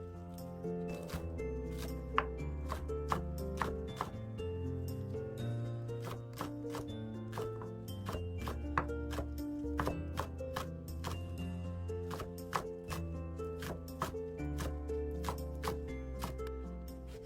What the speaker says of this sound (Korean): 깨끗이 씻은 쪽파를 쫑쫑 썰어서 준비해 주시고요